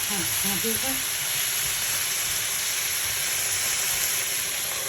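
Garlic and Brussels sprouts sizzling in a hot pan, a steady loud hiss of frying with steam throughout, and a voice speaking briefly at the start.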